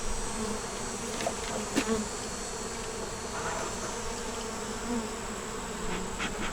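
Honey bees buzz in a dense, continuous drone at an open hive during an inspection, close and steady, with a few faint knocks and shifts.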